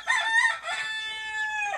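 A chicken of unknown breed, being raised among meat chickens, crows loudly and clearly close by, a single drawn-out call with a few clucks at the start.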